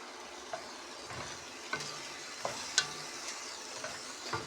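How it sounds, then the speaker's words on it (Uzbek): Lamb with onion frying in a pan after tomato sauce is added for dimlama, stirred with soft sizzling and intermittent sharp scrapes and clinks of the utensil, close and faint, no voices. "qovurishda davom etaman"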